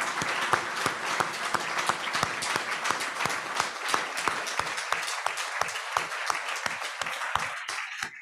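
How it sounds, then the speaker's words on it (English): Applause at a Seonghwa ceremony for Susan, sustained close clapping from a gathered crowd with some sharp individual claps standing out, fading slightly toward the end. "I feel we should all give Susan a wonderful round of applause."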